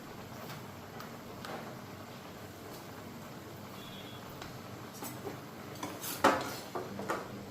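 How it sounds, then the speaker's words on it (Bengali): A small metal wok rattles faintly and clinks now and then as curry with turmeric and salt is stirred, with a few sharper knocks near the end. "তরকারিটা একটু লাড়তে কষ্ট হইতেছে, কড়াইটা খালি হিল্লা দিতেছে।"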